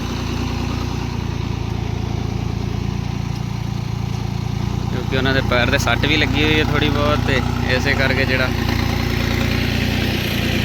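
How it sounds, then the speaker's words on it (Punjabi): A farm tractor engine runs in a field with a constant, loud low rumble throughout, while someone talks close by over the engine drone. "ਬਾਪੂ ਬਹੁਤ ਡਰ ਡਰ ਕੇ ਚਲਾਈ ਜਾਂਦਾ ਟਰੈਕਟਰ"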